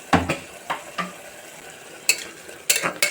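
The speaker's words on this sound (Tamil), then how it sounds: "இப்போ இது நல்லா எண்ணெய் பிரிகிற மாதிரி வதக்கணும்." Ripe tomatoes saute in oil for biryani, a soft frying sizzle punctuated by several sharp spoon-against-pan stirring knocks at irregular intervals.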